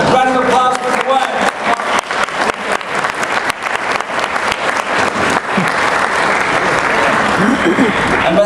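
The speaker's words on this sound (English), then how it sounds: "Round of applause for Gwen." An audience at the Tiki Oasis event gives a sustained, loud round of applause for a performer named Gwen after a stage seance act, thick clapping that thins toward the end as a voice comes in.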